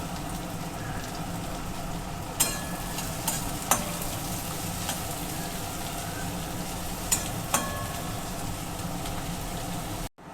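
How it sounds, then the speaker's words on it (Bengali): Chopped onions fry and get stirred in a pan while making egg tadka. A steady, even sizzle runs throughout with no talking, broken by a few sharp clinks of the spoon against the pan. "এবার আমি কুচনো পেঁয়াজগুলো দিয়ে দেবো এর মধ্যে। একটু ভেজে নেব পেঁয়াজগুলোকে।"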